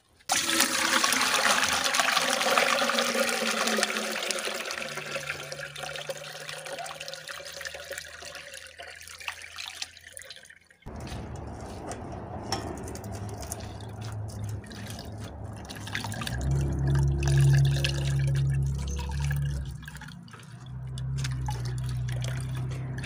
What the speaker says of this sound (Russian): Полоскаю и сливаю через сито.